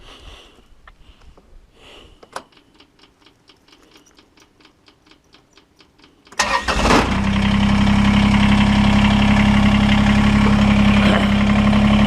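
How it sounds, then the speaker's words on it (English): A ranch tractor's engine cranks with a quick burst of stuttering turns, catches with a loud roar and settles into a steady, loud idle hum. Before it, a dog sniffs and snuffles quietly. "So let me fire the tractor up."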